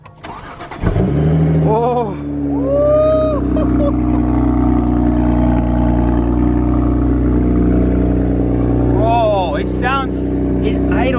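A rebuilt, previously wrecked BMW 335is cranks and fires up for the first time, then holds a smooth, steady idle close by, with a brief spoken exclamation near the start.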